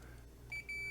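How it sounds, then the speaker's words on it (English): A multimeter set to continuity gives a steady electronic beep while testing the charging circuit of a Pride Victory 10 mobility scooter, sounding close and clear in two short bursts over a low hum. "We've got a beep now. We've got continuity."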